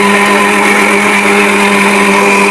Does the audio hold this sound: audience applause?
no